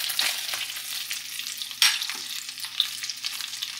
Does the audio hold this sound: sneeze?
no